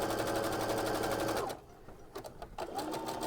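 Sewing machine fitted with a cording foot runs steadily over thick metallic cord with monofilament thread, a loud continuous whirring buzz for about a second and a half, then stopping, with a few faint clicks before the motor hums again briefly.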